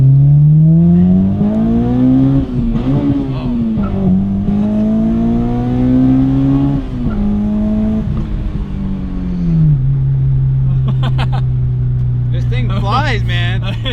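A Honda Integra Type R with a K20A engine accelerates hard from inside the cabin, its loud droning pitch climbing and dropping through several high-RPM gear shifts, with brief voices near the end.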